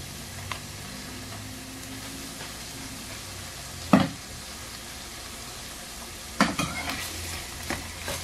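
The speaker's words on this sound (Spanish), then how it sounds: "De aquí mismo lo vamos a machacar, que suelte todo el sabor y quede más picoso" Chipotle chile is mashed in a pan over low sizzling, with a few sharp knocks and scrapes of the utensil against the pan breaking up the soft frying hiss.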